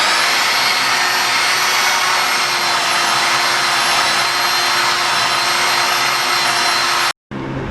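A power tool buffing and polishing the exhaust system of a 2020 Yamaha MT-09 motorcycle makes a loud, steady high-pitched whine with a constant motor hum. It runs without letup, then cuts off abruptly just before the end.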